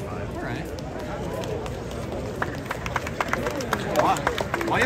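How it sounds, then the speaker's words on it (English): Scattered audience clapping at a Rubik's cube competition, irregular claps growing toward the end over crowd chatter and nearby talking. "Why y'all clapping for a five, y'all?"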